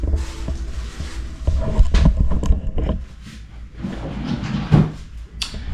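A bathroom drawer sliding open and shut, a few rumbling wooden slides and knocks up close, with rattling contents and a final thud.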